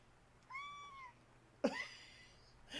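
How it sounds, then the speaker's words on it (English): A pet cat meows at a microphone from a footstool, two distinct close meows: a thin rising call followed after a pause by a louder, sharper one, over a quiet room. "She just got up on my footstool and looked at the microphone and meowed."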